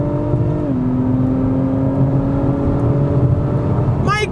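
Acura TLX Type S pulling hard on a backroad, a loud steady engine drone with a rising pitch after a shift, the revs climbing continuously close-up inside the cabin.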